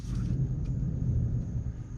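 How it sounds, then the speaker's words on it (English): Distant thunder gives a low, steady rumble for about two seconds, heard indoors during a paper craft session. "And yes, guys, that is thunder again."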